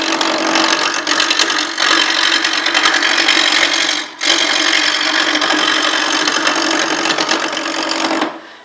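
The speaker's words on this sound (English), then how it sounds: "So this is what's called scraping." A wood turning scraper cuts against spinning wood on a lathe, giving a loud, continuous rasping scrape that hardly lets up. There is one short break about halfway through, and the sound stops abruptly at the end.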